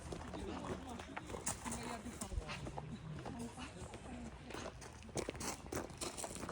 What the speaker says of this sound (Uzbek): Lekin bu ot.